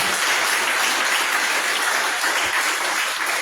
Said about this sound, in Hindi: एक और तालियां प्रभु के लिए